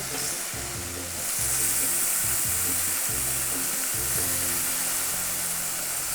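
Fish browns in a thin layer of oil in a stainless steel pan, giving a steady, close hiss of frying that swells slightly after the first second and holds evenly with no talk.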